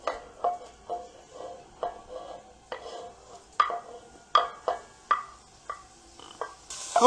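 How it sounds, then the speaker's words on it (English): Sausage for lasagna soup is sautéed in a pot, heard as a steady series of scraping stirs and clinks from a spoon against the pot, each a short distinct scrape repeated at an even pace. "we saute the sausage a little bit, that give a little color"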